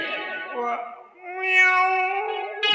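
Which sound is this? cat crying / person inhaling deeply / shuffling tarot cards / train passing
cat crying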